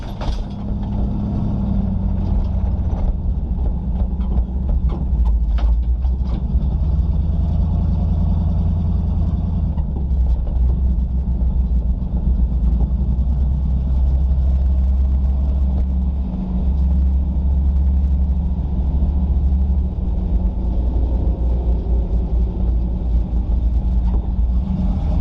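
A heavy wrecker tow truck grinds off-road through sandy wash trails at Sand Hollow, its engine a loud, steady low rumble heard from inside the cab, with occasional knocks and rattles over the full stretch.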